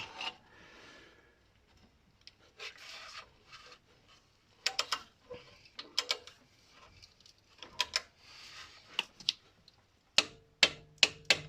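A torque wrench set to 45 newton meters tightens exhaust manifold bolts on a 1.8 K-series MGF engine: rubbing and ratcheting strokes, then a quick run of four or five sharp, close clicks at the end.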